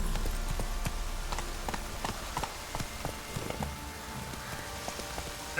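Hooves of Roach, the horse in The Witcher 3, clip-clop steadily at a trot across the ground, a regular rhythmic beat with soft ambient wash behind and no talking.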